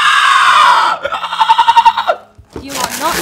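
A person vocally imitates a Carnotaurus dinosaur roar from a video game: a sustained screeching cry, then a choppy pulsing growl, a brief pause, and a rising shriek, loud and close.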